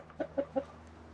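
Three short, soft clucks in quick succession from a hen, fairly faint over a low background hum.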